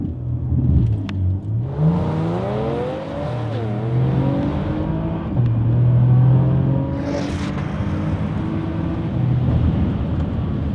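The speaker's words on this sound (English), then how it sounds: "it definitely feels faster than a stock Porsche Macan Turbo" A tuned Porsche Macan Turbo revs and accelerates hard, pitch climbing through several gear changes, loud and close with a steady rumbling undertone.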